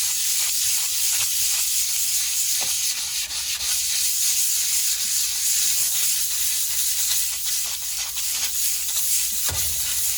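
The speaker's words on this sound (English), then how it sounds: "It's not very much sanding, not very much pressure" Steady, continuous sanding of aluminium with light pressure, a bright hissing rub with faint rhythmic strokes, close and unbroken for the whole stretch.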